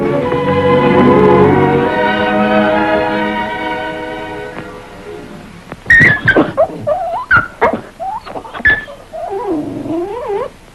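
A dog whimpers, yips and whines in a film scene, first a long sustained tonal wail, then a burst of sharp yips and wavering whimpers, close and loud with no talking.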